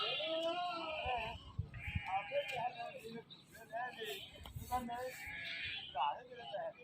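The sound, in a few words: Sindhi goat bleating at Lahore goat market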